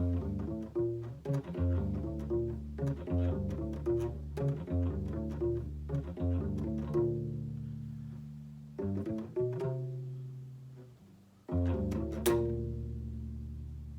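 A plucked ukulele plays a TV theme as a slow single-note melody, each note ringing out with clear sustained tones and short pauses between phrases, no voices.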